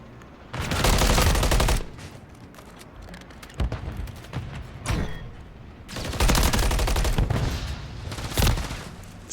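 Rapid automatic gunfire from a Call of Duty esports match comes in loud, dense bursts separated by quieter gaps with scattered single shots.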